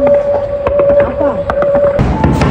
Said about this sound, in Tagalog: Grabe yung fireworks mga kabayan dito sa Greenland.